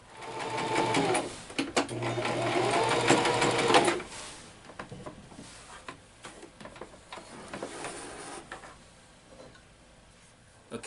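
Rapid, close mechanical whirring and ticking comes from a sewing machine stitching the top seam of a wax canvas bottle bag with paracord inside, in two bursts, before quieter clicks and fabric handling take over.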